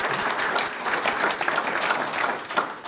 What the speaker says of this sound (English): So I need a big round of applause for Lori as well